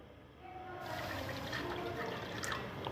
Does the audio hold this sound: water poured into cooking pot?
yes